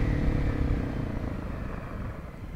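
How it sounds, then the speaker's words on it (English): A motorcycle on Perrelli MT-16 tires runs loud and close with a steady engine roar that eases off gradually, as if slowing under braking. "Alright, I'll pick up a little speed here and we'll try some braking."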